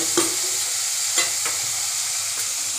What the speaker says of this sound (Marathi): आता आपण टॅमॅटो आणि कोथिंबीर सुद्धा टाकलेली आहे, ती सुद्धा चांगली तेलामध्ये परतून घेणार आहोत.